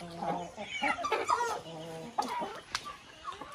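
A rooster of the bode breed clucks and calls in a lively run of varied, fairly close vocalizations, with other farm sounds and rain-soaked smallholding ambience around it.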